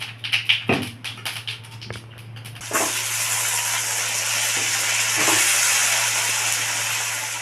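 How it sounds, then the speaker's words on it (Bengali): Long potato strips dropped into hot oil already used for frying fish and tempered with whole cumin seeds: a few sharp clatters and pops, then a sudden, steady loud hiss and bubbling sizzle that carries on unbroken. "লম্বা লম্বা করে আলু কেটে রেখেছিলাম, আলুগুলোকে ভেজে নেব।"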